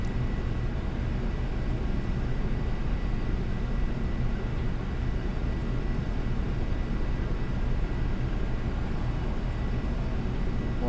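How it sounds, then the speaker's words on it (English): An Airbus A340-500 in X-Plane 12 spools up for takeoff, a dense, steady broadband engine roar filling the whole stretch at constant loudness with no voices. "So auto brake, we are doing takeoff."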